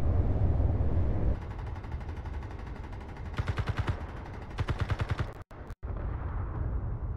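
Rifle gunfire in a Liberate Mars video game session: loud rapid bursts of shots rattle over a dense rumbling background, with a couple of sharp breaks in the sound near the end.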